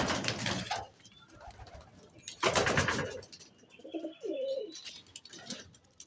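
Wild pigeons coo softly in a low, rolling call, broken by sharp rustling bursts that could be wing flaps, heard close by in a pigeon loft with no voices.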